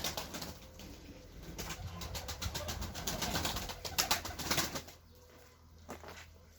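Pigeons let out of their loft flap and flutter close by in repeated bursts of wingbeats, with soft cooing mixed in, before the flapping fades to a quieter murmur near the end.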